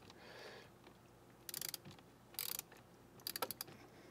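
Metal screw being tightened into a plastic panel housing while fitting an M button in a BMW M4/M3 F82 F80 F30, heard as faint bursts of quick ratcheting clicks in three short runs, close and quiet.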